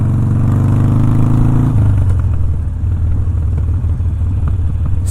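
A motorcycle engine sits close and loud in traffic around Wildwood, a throbbing rev that drops in pitch partway through, then settles into a steady lower rumble with passing road noise.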